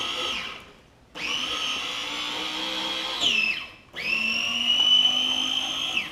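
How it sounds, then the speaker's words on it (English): An Aceshin electric slicer grater motor whines as its small grating drum shaves chocolate, a loud steady high-pitched drone in bursts that spin up and wind down between pauses. "Now it's time for the small grating tool."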